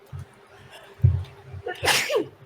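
A single sharp sneeze during a tabletop role-playing game session, preceded by a short inhale and followed by quiet voices nearby.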